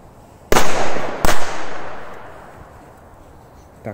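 Two sharp, very loud bangs from a powerful Korsar 4 firecracker sound about a second apart outdoors, the second followed by a long, fading rumbling echo.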